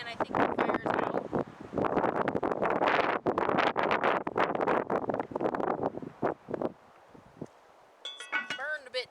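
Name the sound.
wind blowing outdoors in Alaska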